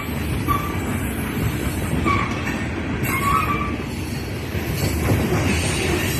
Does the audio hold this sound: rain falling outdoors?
no